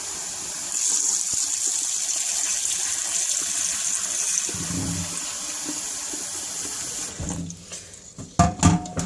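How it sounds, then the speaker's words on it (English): Cold water running from a tap into a container at a kitchen sink, a steady hissing gush that stops near the end, followed by a few clinks and knocks. "I'm going to fill it up and I'm just going to leave it in cold water here"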